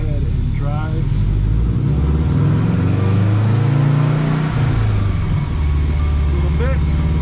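Engine of a 2017 Subaru STI running on a dyno, a steady droning hum with pitch rising and falling as it is driven, and a voice talking over it.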